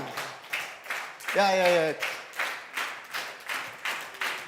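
An audience at a leadership camp keeps up a steady, even clap of roughly two claps per second, loud and close. A single voice calls out briefly partway through.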